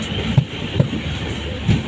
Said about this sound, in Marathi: आणि आत्ता फायनली आमची ट्रेन सुटली आहे